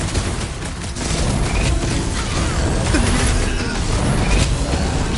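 Dense, continuous weapon fire and crashing impacts from a battle against a big robot in the Guardians of the Galaxy video game, loud and sustained throughout with mechanical clatter, no one speaking.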